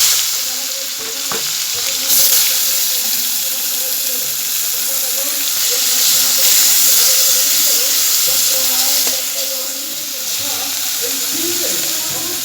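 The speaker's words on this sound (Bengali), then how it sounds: "তারপরে আমি পেঁয়াজ কুচি দিয়ে দেব।" Chopped onions frying in hot oil with cumin seeds, a loud continuous sizzle and hiss with occasional stirring scrapes throughout, close to the pan.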